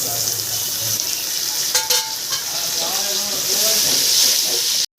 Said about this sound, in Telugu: ఇలాగా మసాలా బాగా వేగాలి